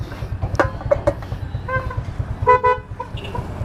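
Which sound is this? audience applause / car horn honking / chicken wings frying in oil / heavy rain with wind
car horn honking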